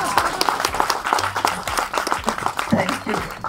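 Audience applause at a Kannada film event, with steady clapping filling the room while voices and murmured talk run underneath and occasionally rise above it.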